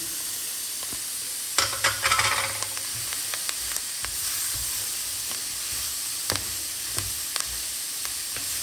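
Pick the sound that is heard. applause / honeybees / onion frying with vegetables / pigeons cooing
onion frying with vegetables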